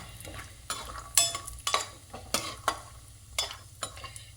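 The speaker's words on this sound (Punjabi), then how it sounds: "ਥੋੜਾ ਹਲਕਾ ਫਰਾਈ ਕਰ ਲੈਣੇ ਆਪਾਂ ਸਰੋਂ ਦੇ ਤੇਲ 'ਚ ਮੈਂ ਫਰਾਈ ਕਰ ਰਹੀ ਹਾਂ" Peanuts fry lightly in mustard oil in a pan, giving a soft sizzle broken by repeated scraping stirs. The stirring clinks and rasps come every half second or so, close up, with no talk.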